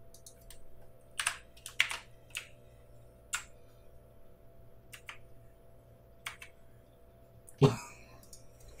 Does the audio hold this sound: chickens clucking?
no